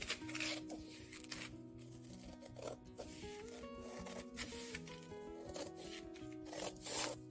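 Cutting through a piece of material by hand, heard as a continuous rough rasping and rubbing, close and fairly loud, with a few sharper strokes and no talking.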